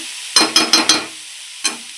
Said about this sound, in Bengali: বাঁধাকপি পুরো ডান হয়ে গেছে, আর 2-1 মিনিট একটু ভাজা ভাজা করলেই হয়ে যাবে।